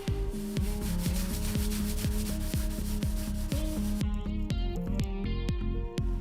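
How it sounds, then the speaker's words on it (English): A rag buffs wax off a wooden cutting board in quick, regular back-and-forth strokes, a close, continuous rubbing swish with no voices. "get the other side of that rag that's still nice and clean, buff all this wax off"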